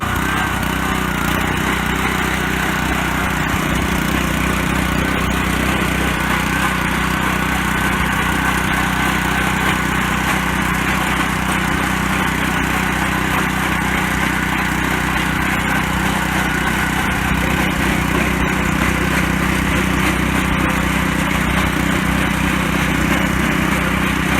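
A tiller cultivator weeds garden aisles, its tines digging shallow, with a loud, continuous engine drone and a steady churning roar that never lets up and no talk over it.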